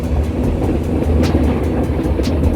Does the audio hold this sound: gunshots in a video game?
no